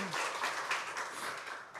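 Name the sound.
congregation applause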